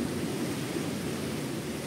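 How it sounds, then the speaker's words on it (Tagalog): Steady broadband rushing of surf, a continuous wash of waves with no pauses and no voices. "Lalakas naman ang alon na yun."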